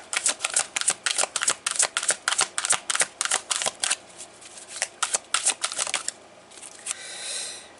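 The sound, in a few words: cards being shuffled for a tarot reading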